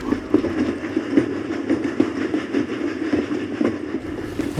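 A train rolls along at night, with a steady, close rumble and a regular rhythmic rattle of the carriages running continuously throughout.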